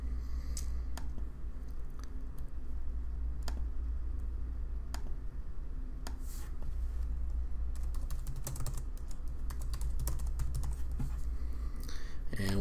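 Typing on a computer keyboard while customizing a WordPress site on BlueHost: scattered key clicks at first, then a quicker, denser run of taps over a steady low background hum.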